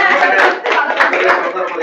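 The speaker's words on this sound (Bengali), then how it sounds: "একটা করতালি দিই" Students in an art-school admission coaching class clap together, a loud burst of hand claps mixed with voices, with a few sharper claps standing out.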